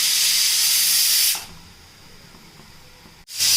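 Steam hisses loudly and steadily from a pressure cooker whistle while idli and kuruma kuzhambu are being made, then cuts off abruptly, leaving a quiet kitchen, before a fresh burst of hissing at the end.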